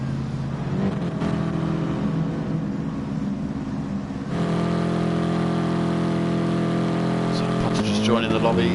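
Race cars in a racing video game pull out of the pits onto the track, a steady droning engine hum that grows fuller partway through, under a commentator's talk.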